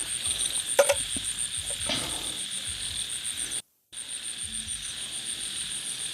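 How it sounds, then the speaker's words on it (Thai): Frogs croak across rice fields at night, a steady chorus of calls blended with insect trilling, moderately loud and continuous with a brief gap of silence, no talk. "ท้องไร่ท้องนายามคืนนะฮะเสียงกบ เสียงเขียดร้อง"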